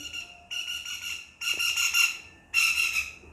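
A bird squawks in three long, harsh, piercing calls, each held for about a second with short gaps between them, loud and close.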